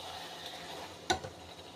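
Potato pieces and chicken stirred and frying in spice masala in a pan, a soft, low sizzle with one sharper scrape of a utensil partway through, faint and steady with no talking.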